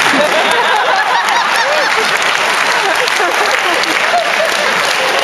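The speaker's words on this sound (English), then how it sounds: "I've never gotten a round of applause." An audience at a live stage show in Oslo breaks into a full round of applause, dense and steady clapping from many hands that fills the whole stretch at high volume with no pauses.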